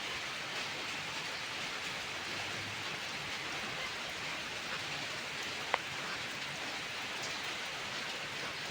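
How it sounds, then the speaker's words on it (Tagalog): Steady heavy rain pouring down, a dense continuous hiss with no voices, one brief sharp tap partway through. "Lakas ng ulan."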